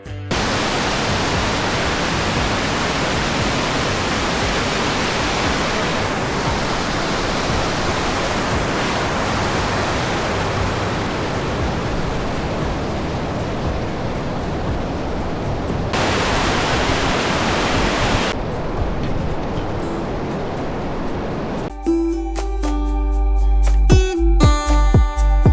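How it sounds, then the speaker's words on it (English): Constant roaring rush of a waterfall on the way to Silent Valley National Park, broad and steady, with a brief burst of different noise near the end. "There were many streams on the way and we stopped at a waterfall to take some"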